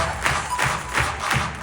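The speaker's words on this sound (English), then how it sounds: "Indiana clap." Rhythmic unison clapping from a large youth conference audience in Indianapolis, four regular beats a little under half a second apart, with a soft booming music pulse underneath.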